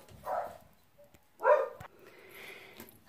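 A couple of short dog barks from a room away, separated by quiet stretches, with faint household noise in between.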